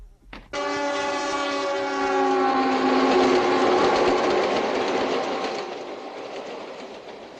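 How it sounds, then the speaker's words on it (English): A train horn blasts, then the Coast Daylight passenger train rumbles and clatters past nearby, arriving in San Francisco, its rolling noise building before slowly fading. "Train number 99, the Coast Daylight from Los Angeles, is now arriving in San Francisco on track number 10."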